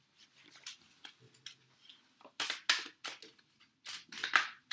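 Pokemon trading cards shuffled by hand indoors, a run of soft papery riffles and flicks that grows louder and denser toward the end, with no talk.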